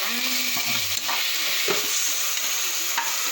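Tomatoes sizzle steadily in hot oil as they are stir-fried for a home-style chicken curry, a constant bright frying hiss with a few soft stirring knocks and scrapes, close and alone with no talk.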